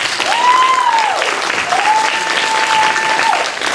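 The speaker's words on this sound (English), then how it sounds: "Let's give them a round of applause" A crowd at a New Bern Civic Theater Juneteenth event applauds the African American Heritage and Culture Center with loud, sustained clapping, while a steady high tone, like a whistle or feedback, runs above it.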